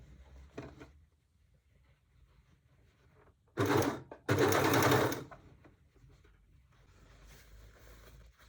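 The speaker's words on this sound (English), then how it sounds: "I'll overlock on both sides." An overlock sewing machine stitches a seam on a pair of pants in two loud, steady bursts of running, separated by a short pause, with quiet handling noise before and after.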